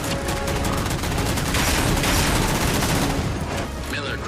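Apex guns firing on a beach during a Halo 4 Spartan Ops cutscene, a dense, continuous barrage of rapid shots and booms sustained loudly throughout, with a voice briefly audible underneath.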